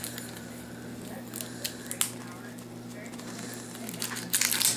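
Packaging on a Stargazers playing card deck being opened, brief crinkling, scraping and tearing near the end over a steady background hum, with a person talking.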